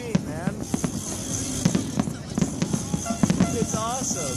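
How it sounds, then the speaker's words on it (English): Sharp, repeated explosions from a Las Vegas New Year's Eve fireworks display pop and thud in uneven clusters, mixed with sizzling crackle, as a voice chatters close to the microphone. "This is the best fireworks show I've ever seen"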